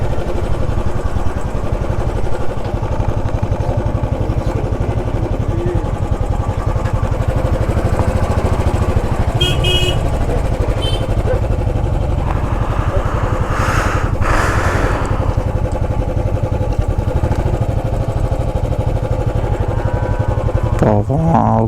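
A motorcycle engine drones steadily and up close while riding through heavy truck traffic on the Siliguri to Jorabat highway near the Bangladesh border. The constant, loud engine hum runs throughout, with brief bursts of other traffic noise mixed in.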